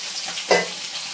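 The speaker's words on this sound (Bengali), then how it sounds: "আজকে দেখো মাছ ভাজা হচ্ছে" Fish frying in a pan, a short burst of sizzle with one louder scrape or splutter in the middle, close and alone.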